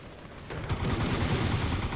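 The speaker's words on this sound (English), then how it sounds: "all the bombs actually come from cannons. Well, it shoots instead of drops." A toy boat's cannons fire in the video game Attack On Toys; after a half-second lull, a dense, continuous barrage of booming shots starts abruptly and keeps rumbling loudly to the end, with no talking.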